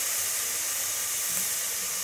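Onions sauté in a pan for mushroom biryani, producing a continuous steady sizzle and hiss with no talk.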